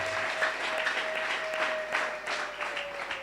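A church congregation applauds after a sermon reading, a steady wash of many hands clapping at moderate distance, with a sustained tone running beneath it.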